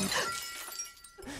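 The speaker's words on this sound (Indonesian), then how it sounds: "sebuah gelas terjatuh pun terdengar" A drinking glass falls and shatters indoors near a piano, a sharp bright crash with scattered tinkling shards over about a second, then quiet.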